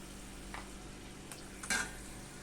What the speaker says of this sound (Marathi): आता आपले बदामही चांगले फ्राय झालेले आहेत, पाहू शकताय तुम्ही.